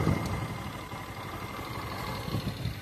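A motorcycle engine runs at a steady idle near a cattle-event grounds, a continuous low rumble with slight surges at the start and end, with no talk.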